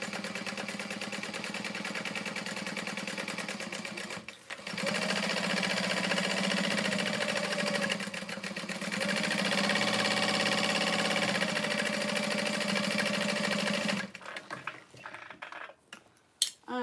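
A sewing machine bastes across the ends of a fabric bag, running as a steady, close mechanical whir that briefly pauses and then continues for several more seconds before it stops.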